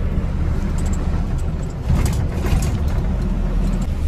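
A loaded truck cruising on a highway from Shrirampur toward Bhilai, passing another vehicle: steady close engine drone and road rumble throughout, with a brief dip and then a swell as it overtakes.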